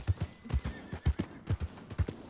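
A horse in the video game Red Dead Redemption 2 trots with steady, rhythmic clip-clop hoofbeats and whinnies loudly and close, with no talking over it.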